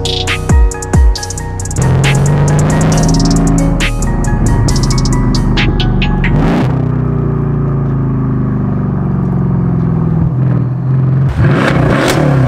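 A Mansory Stealth S63 fitted with a custom exhaust revs loudly up close, with a deep, throaty engine drone that rises and falls through repeated throttle blips, plus sharp transient pops over a sustained rumble.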